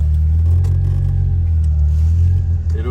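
A deep, loud vintage Ferrari sports car engine idles with a heavy low rumble and a slight uneven throb, steady and close by.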